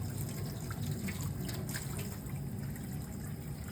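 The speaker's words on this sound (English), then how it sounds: "I'm gonna open my water faucet." Water running steadily from a faucet for hand washing, a continuous close rushing flow with light splashing throughout and no talking.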